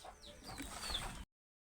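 A bird found tied up near a sap-collecting spot on a tuba palm gives soft chicken-like clucking, close by and alone, ending abruptly after about a second.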